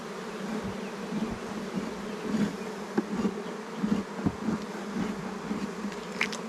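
Honeybees in a nuc hive during a one-month inspection, a dense, continuous buzzing swarm close by with individual bees swelling louder as they pass near, no talking.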